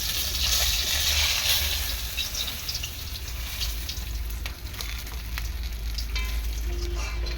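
Fish fries in hot oil in a pan with spices, a loud continuous close sizzle with occasional small crackles and spatters throughout.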